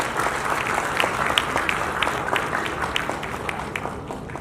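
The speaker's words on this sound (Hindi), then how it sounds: "मैं चाहूँगा कि आप सब तालियों से उनका स्वागत करें।" An audience at a textile ministry event welcomes the central textile minister with applause, steady clapping that fills the hall for a few seconds, loud and fairly close, then slowly thins out toward the end.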